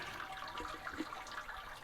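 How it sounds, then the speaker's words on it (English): Clean water is poured over mashed grains while all-grain brewing a ginger saison, a faint, steady splashing trickle with no speech. "All I'm doing is I'm going to pour clean water over the top of my grains"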